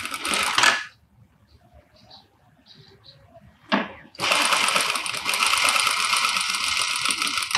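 A sewing machine stitches a seam along a trouser pocket, first in a short burst, then after a pause with small clicks and a sharp clack, running again steadily and loud for several seconds.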